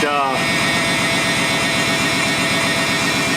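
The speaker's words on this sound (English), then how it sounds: "It's idling high, obviously, because it doesn't have any of its sensors hooked up" A revved-up engine with its sensors disconnected runs steadily at a high idle, a dense continuous mechanical drone with a faint rattle, close and loud throughout.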